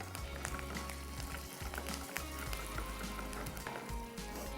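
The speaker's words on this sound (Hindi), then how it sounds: "थोड़ा कड़कड़ाएं ताकि अच्छी सी खुशबू आ जाए।" Curry leaves crackle and sizzle in hot oil as a tempering for dal, with browned chillies already in the pan; a steady, close frying hiss runs throughout with scattered pops.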